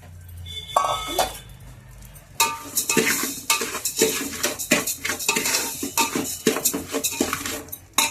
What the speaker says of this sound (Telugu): ఇప్పుడు ఈ రైస్ ఇందులో వేసేసుకుందాం ఏంటి, వేసుకుని వేయించుకుందాం బాగా